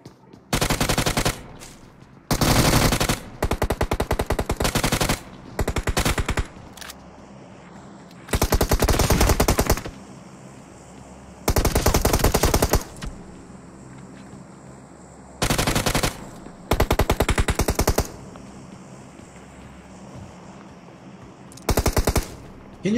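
Loud machine gun fire from the mobile battle-royale game PUBG Mobile rattles out in about eight separate sustained bursts, each a second or two long, with short quiet gaps between them.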